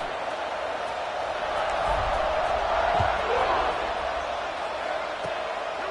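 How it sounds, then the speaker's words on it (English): Stadium crowd cheering in a college football video game, a steady broad roar of fans that swells around the middle before a kickoff, with commentary voices running over it. "this crowd now ready to get behind them"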